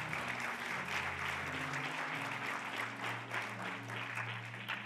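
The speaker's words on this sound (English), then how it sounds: "Let's give God another hand clap of praise." Church congregation clapping hands in praise during a Wednesday service, a steady, continuous wash of applause over sustained organ or keyboard tones, moderately quiet and without talk.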